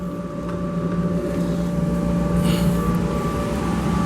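A shopmade dust collector runs steadily with its bandsaw port closed, giving a loud continuous motor drone and airflow whoosh with a steady hum throughout, no voices.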